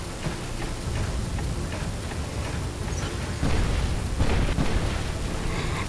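Scorcher and Incinerator weapons blasting in the War Robots video game make a dense, roaring wash of noise with heavier bursts toward the end.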